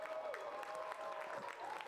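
A baseball crowd gives a steady, sustained ovation to a pitcher leaving the game in the middle of a perfect game, heard faintly as distant applause with a broadcaster's voice over it.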